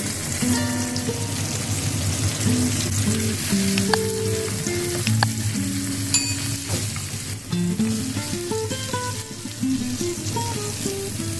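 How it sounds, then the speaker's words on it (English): Egg-stuffed brinjal (eggplant) fries in oil in an uncovered pan, giving a loud, continuous close-up sizzle with crackles and occasional utensil clinks throughout. "Fry open in the pan without cover to make the fries crispy."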